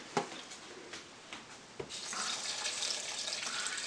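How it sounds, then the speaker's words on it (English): Water is poured into a grinder jar holding onion and other curry ingredients for an Indian prawn curry. A few clunks come first, then a steady splashing pour runs to the end, close and moderately loud. "I'm going to add some water to this thing."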